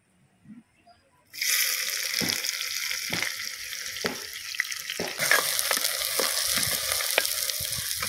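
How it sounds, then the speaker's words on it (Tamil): Chopped onions, green chillies, curry leaves and coriander sautéing in hot oil in a pan for a chicken and egg curry gravy, a steady close sizzle with repeated stirring scrapes, no talking. "நல்லா வதங்கட்டும் நல்லா கிரேவியாக வரணும்னா நல்லா வாங்க நல்லா வதங்கணும்"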